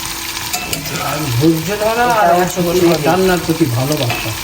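Salmon sizzles and spits as it fries in a pan in a home kitchen, with a steady, close crackle running throughout beneath a person talking.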